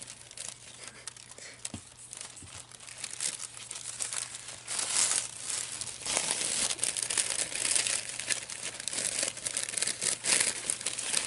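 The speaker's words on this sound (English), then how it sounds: "I think that tissue paper makes good sounds." Tissue paper crinkles and rustles right up close, starting softly and growing louder and busier, with crisp crackling bursts throughout.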